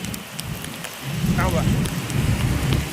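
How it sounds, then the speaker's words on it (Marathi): Steady, dense rain pours down continuously, loud and close, with a faint voice briefly heard under it. "पावसाने बघा फुल पाऊस आहे"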